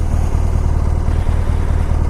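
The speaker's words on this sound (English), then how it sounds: "Lovely, lovely motorcycle." A motorcycle engine idles close by, a steady low rumble with a lumpy, pulsing beat and no voices.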